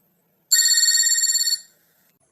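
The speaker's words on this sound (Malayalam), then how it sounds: "ഇതാര് ഈ ഭക്ഷണം കഴിക്കുന്ന സമയത്ത് ഫോൺ വിളിക്കുന്നത്?" A phone ringtone rings out loud and clear for about a second as a rapid warbling trill, then stops, followed by a brief sound at the very end.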